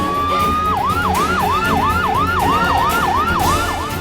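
Ambulance siren wailing loud and close in a rapid, repeating up-and-down yelp, steady throughout with traffic rumble underneath and no voices.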